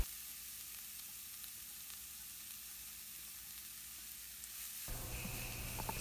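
Grated carrot tipped into a pan of frying ingredients for a carrot moong dal curry, giving a faint steady sizzle that swells louder near the end as the carrot hits the hot oil.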